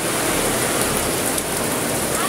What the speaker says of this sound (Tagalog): inabot na tayo ng ulan sa ating pagluluto